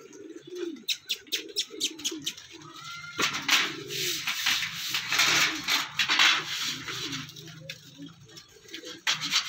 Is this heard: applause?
no